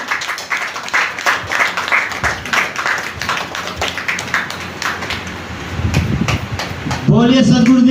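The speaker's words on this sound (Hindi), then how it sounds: "इनका जोरदार तालियां से सम्मान किया जाए।" Audience applause at a live spiritual peace-of-mind gathering: dense, steady clapping from a crowd that runs for several seconds, then gives way to a voice or musical tone near the end.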